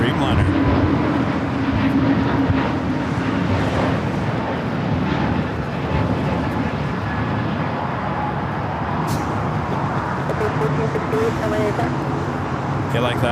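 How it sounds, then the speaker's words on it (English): Qantas Airbus A380 taxiing toward the gate at Los Angeles International Airport, a steady broad jet engine roar heard from outside, with voices talking over it throughout. "Qantas A380 Super now finally heading into the gate"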